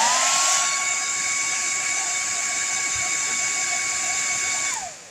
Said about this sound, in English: Here's the hair dryer.